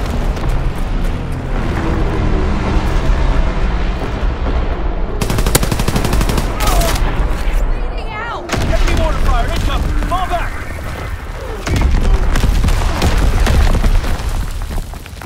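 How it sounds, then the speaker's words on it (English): Heavy gunfire and booming artillery blasts in the World War II shooter Call of Duty: WWII, with dense machine-gun bursts and loud explosions crowding the whole stretch, plus brief shouted game voice lines in the mix. "Incoming enemy artillery."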